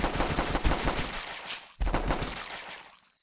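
Pistol gunfire in The Last Stand, a Flash game: rapid, loud back-to-back shots in two bursts broken by a short gap, with no talk over them.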